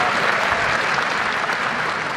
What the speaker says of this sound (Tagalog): ba't kayo pumalakpak?